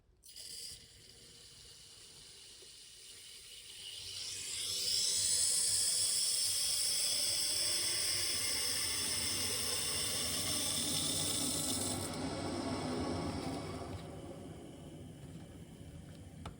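Water is slowly turned on and rushes through PEX piping at a pressure reducing valve, a steady hiss that swells over a few seconds, holds loud and close, then eases off toward the end with no voices.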